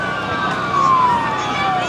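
An emergency vehicle siren wails at a steady distance during a Christmas parade in Lockhart, its pitch gliding slowly downward over a low rumble of traffic and crowd noise.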